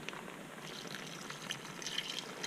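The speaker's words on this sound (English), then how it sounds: "so we're gonna pour the broth in there." Chicken broth made with onions and seasonings is poured into a pan, giving a soft continuous liquid splash and trickle, fairly quiet, with no talking.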